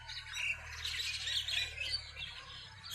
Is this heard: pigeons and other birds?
yes